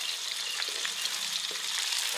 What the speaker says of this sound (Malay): Oke, kita tunggu buah nangkanya nih. Kita goreng ini.